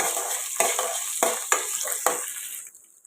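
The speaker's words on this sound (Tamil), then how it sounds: "இப்போ ரெண்டு பச்சை மிளகாய் நாலு கீனி வச்சுருக்கேன் கொஞ்சமாக இஞ்சி இதை இதோடு போட்டு" Green chillies and ginger sautéing in a pan, a steady sizzle with several distinct scraping stirs of a spatula spaced through it, the frying fading out at the end.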